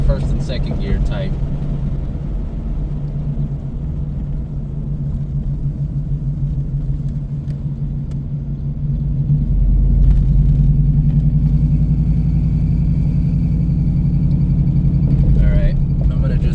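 A 1996 Impala SS cruising with a slipping transmission that acts as if it has only first and second gear; a steady low engine and road rumble swells louder partway through, with brief faint sounds above it.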